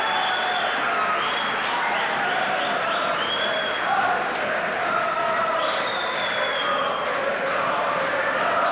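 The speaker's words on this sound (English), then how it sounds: "there's Marsh's fireman and fan club friends there, trying to cheer him on" Boxing crowd cheering for boxer Terry Marsh, including his firefighter colleagues and fan club, during a 1985 bout against Peter Eubank; a steady, dense roar of cheers and shouts with scattered clapping throughout.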